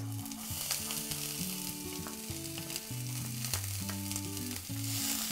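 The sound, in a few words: onion frying in hot oil with garlic, ginger, green chili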